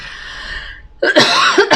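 A single harsh cough at close range, in two quick bursts after a brief soft hiss.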